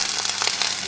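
Hatch green chilies sauté in a hot pan with butter and olive oil, giving a steady, close, continuous sizzle and crackle that holds at an even level for the whole second.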